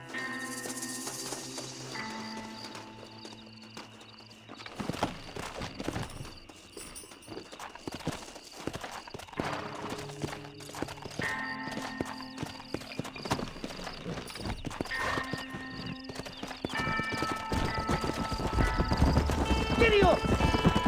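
Horse hooves clip-clopping in the Western video game Red Dead Redemption, a steady trotting rhythm under in-game character dialogue and background music, getting louder toward the end.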